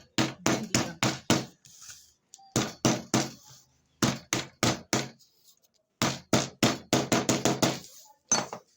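Repeated hammer blows on metal, bent by hand for a handmade fashion bag, come in quick bursts of sharp, close, ringing knocks separated by brief pauses.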